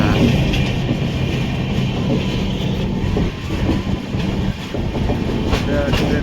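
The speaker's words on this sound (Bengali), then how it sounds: "যাই হোক লোকাল ট্রেন মনে হচ্ছে" A local train running on a railway track, a loud continuous rumble with rhythmic clatter heard up close, with a voice briefly talking over it.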